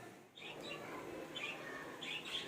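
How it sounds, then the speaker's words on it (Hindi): Birds kept in a birdhouse on a rooftop chirp in a few short bursts, moderately near over faint background noise. "छत पे इन्होंने एक साइड पे रखी हुई है चिड़ियाँ। चिड़ियों के लिए इन्होंने घर बनाया हुआ है"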